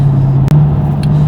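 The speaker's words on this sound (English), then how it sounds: "You can hear that massive V8 noise behind me." A 2010 Jaguar XKR's V8 exhaust holds a loud, steady low drone close by, with a brief dropout midway and a faint high click, with no talking over it.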